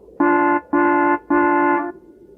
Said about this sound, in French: Oui-Oui s'arrêta devant l'atelier et klaxonna très fort.